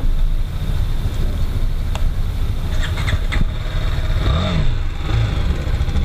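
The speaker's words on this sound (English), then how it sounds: "the motor is nice and it revs" A BMW G310R motorcycle engine runs close by with a steady idle rumble, then blips and revs briefly, the pitch rising and falling under outdoor road noise.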